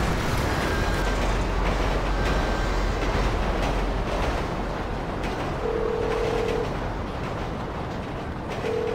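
Train in GTA 5 rumbling past close by, a loud continuous roar of wheels and cars with steady rattling, a faint tonal squeal appearing near the end, no voices.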